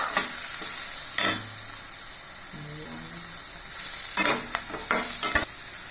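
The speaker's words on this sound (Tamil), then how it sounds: "நல்லா வெங்காயம் வதக்கணுங்க." Onions for a momos filling sautéing in a pan, a continuous close sizzle with several short bursts of spatula scraping and stirring, the last cluster of strokes coming near the end.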